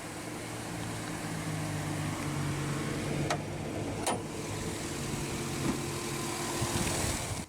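A 2009 GMC Sierra 1500 pickup's naturally aspirated 5.3-litre Vortec V8 idles steadily with a low, even rumble, close by, with a couple of faint clicks partway through.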